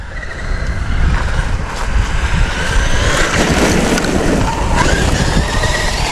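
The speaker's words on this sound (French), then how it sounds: "Là j'ai mis un petit coup de gaz à fond là." A Traxxas UDR RC truck at full throttle, giving a loud, steady, roaring whine with heavy wind buffeting the microphone throughout.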